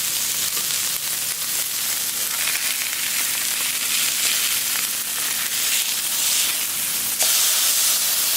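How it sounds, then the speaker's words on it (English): Smash burgers sear on a Camp Chef flat top grill outdoors, with bacon cooking nearby, giving a steady loud sizzle and hiss that carries on throughout without any talking. "I think I'm ready to flip them burgers."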